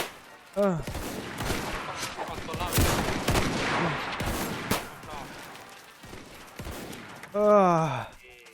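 Roblox battle game gunfire crackles in rapid bursts and volleys amid a busy mix of game sounds, with voices talking excitedly over it and a rising tonal game effect near the end.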